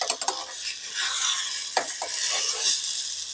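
A ladle omelette fries in a pan as a ladle stirs and turns it, giving a close steady sizzle broken by a few sharp scraping and clinking strokes, with no talk.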